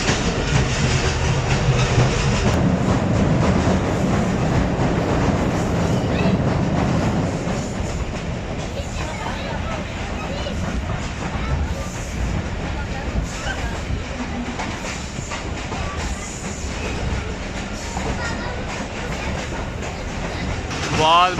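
The Ravi Express passenger train rolls along on a hot day between Lahore and Shorkot, a loud continuous rumble with rhythmic clickety-clack of wheels, heard from inside the carriage throughout.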